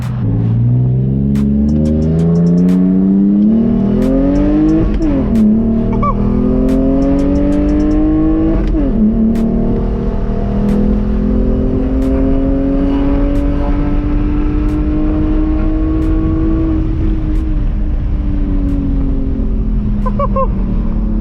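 A car with a welded differential accelerates at full throttle, its engine note climbing steeply through a couple of gear changes and then holding a long, strained pull, loud and close throughout.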